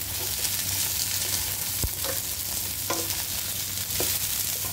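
Baby broccoli and chicken breast stir-frying in a hot pan, a steady dense sizzle throughout with a few sharp clinks and scrapes of a utensil against the pan, close and continuous with no talk.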